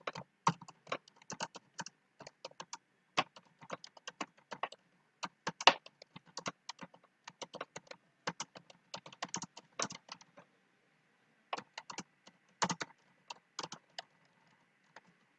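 Typing on a computer keyboard while writing in a text document in Windows, heard as rapid bursts of close key clicks with short pauses, no talk over it.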